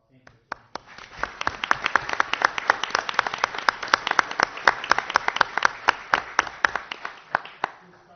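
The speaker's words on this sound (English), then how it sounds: "Give a round of applause." An audience breaks into applause, the clapping quickly building into a full, lively round before thinning out toward the end.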